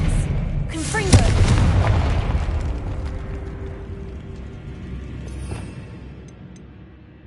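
Spell blasts from Incendio and Confringo in the Hogwarts Legacy video game: a loud booming burst that swells, then rumbles and fades over several seconds, with a second, softer impact partway through.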